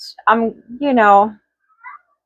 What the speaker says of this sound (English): my cat's losing her mind